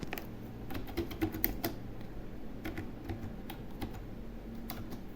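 Fingers type on a computer keyboard while a note is entered in a trading chart app. Quick, irregular clicks of keys run steadily throughout, fairly close and quiet, with no talk.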